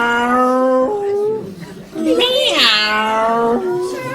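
A voice imitates a cat's meow in a French children's show, drawn-out and rising in pitch, with other vocal sounds around it.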